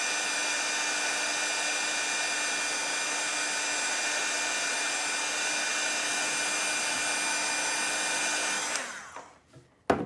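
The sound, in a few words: hot air dryer drying stencil paint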